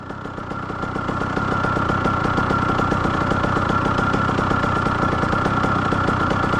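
An 85cc two-stroke dirt bike engine runs steadily and loud. It is close by and holds a constant buzzing idle that rises slightly in the first second, with no talk.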